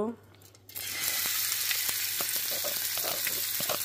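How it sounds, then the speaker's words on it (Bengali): Onion dropped into hot oil in a pan, bursting into a loud, steady sizzle after a brief quiet start, continuing alone close up with occasional stirring clicks. "এর মধ্যে আমি পেঁয়াজটা দিয়ে দিব।"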